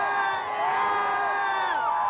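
A big crowd at the Batman and Robin movie premiere cheers and whoops continuously, with loud shouting voices layered together in a steady roar for a couple of seconds.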